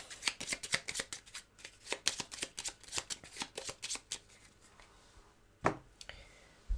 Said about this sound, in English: Then we need to shuffle the cards with animals in a moment.